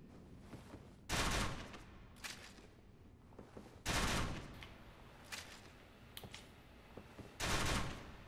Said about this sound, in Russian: валит сразу тремя выстрелами, как из автомата